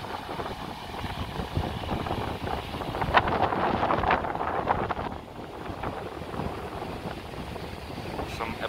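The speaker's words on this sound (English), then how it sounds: "Such a windy day today" Steady wind on a windy day in Da Nang, Vietnam, rushes and buffets against the microphone throughout, a constant low roar with gusts, no clear speech.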